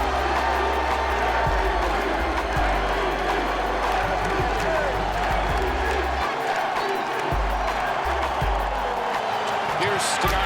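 A basketball arena crowd roars and cheers continuously at a Boston Celtics game, a loud dense wall of noise with a commentator talking over it throughout.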